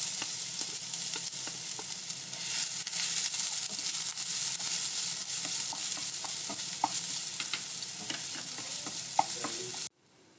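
Steady crackling sizzle of crushed ginger and garlic frying in hot coconut oil, with occasional stirring clinks, continuous and close, cutting off abruptly near the end.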